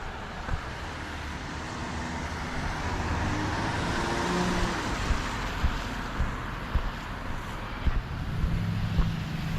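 A car runs along a road on a wet early-spring night, a low rumble and tyre hiss that swell and fade nearby, with faint ticks and wind noise around a walker.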